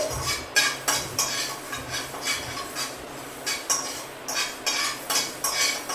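Fenugreek and cumin seeds dry roasting in a pan while being stirred, with repeated rhythmic scraping strokes of a spoon over a faint hiss, close and fairly loud.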